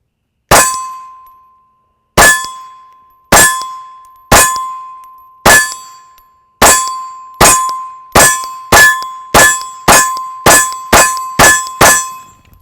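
Glock pistol rounds striking a steel target, giving fourteen loud ringing metallic clangs that come faster toward the end, each one fading out before the next.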